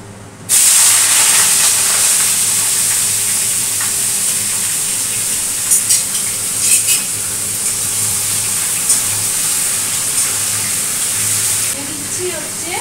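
Vegetables, including malabar spinach, tipped into a hot pan of tempered spices, bursting into a loud, continuous sizzle and hiss close by, with a few brief stirring scrapes mid-way, running steadily for nearly twelve seconds before dropping away.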